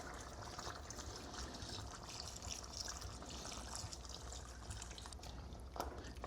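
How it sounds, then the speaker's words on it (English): Napa Valley Merlot poured over short ribs in a pot until only bits of meat stick out, a steady soft trickling stream of liquid running throughout, close and quiet, without talking. "I have some Merlot here. Napa Valley. And get it in there until you just see icebergs sticking out."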